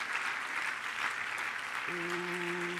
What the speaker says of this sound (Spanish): Dele un fuerte aplauso a Cristo Jesús esta mañana.